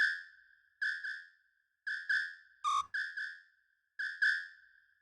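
Sampled whistle hits in an amapiano beat built in FL Studio come as short, bright, clean tones, some single and some in quick pairs, in a rhythmic pattern with silent gaps. One sharper, pitch-dropping blip sits in the middle.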